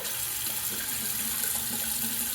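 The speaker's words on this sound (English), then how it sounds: "I am going to rinse off really well." Tap water running into a sink to rinse off after a shave, a steady, close hiss that holds at an even level throughout.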